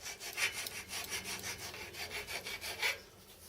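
A metal bearing cap housing for a homemade Gingery milling machine spindle head is flattened by hand, heard as quiet, rhythmic back-and-forth rasping strokes, about a dozen in a steady cadence, close and alone.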